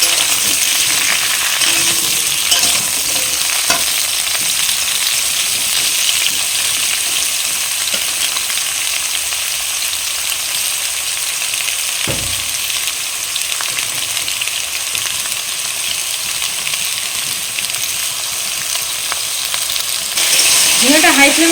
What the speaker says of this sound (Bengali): ঝিঙেটা দিয়ে হাই ফ্লেমে আমি 2-3 মিনিট ভেজে নেব